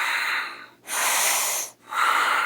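Strained, effortful breaths demonstrated in a yoga lesson on chest breathing: two long, loud, hissing inhalation-exhalation phases with brief pauses between, close up, no talking.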